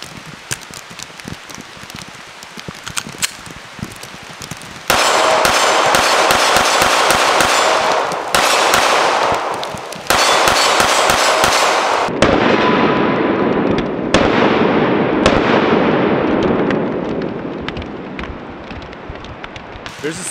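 A Springfield Echelon 4.0c Comp compensated pistol firing: a rapid string of sharp, loud gunshots in dense volleys, broken by short pauses and tapering off toward the end.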